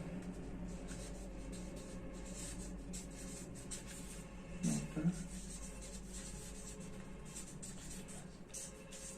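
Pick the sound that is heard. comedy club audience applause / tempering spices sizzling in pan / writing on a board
writing on a board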